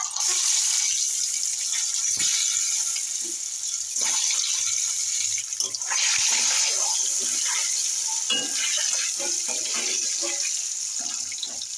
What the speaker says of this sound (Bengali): এবার ডিমগুলো আমি একে একে ভেজে নেবো সব